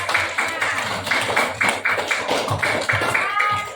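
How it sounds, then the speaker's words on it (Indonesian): Children clap in unison in a classroom, a fairly loud rhythmic burst of group claps with a steady beat, a few voices audible beneath. "Ya, tepuk tangan buat Mahmud."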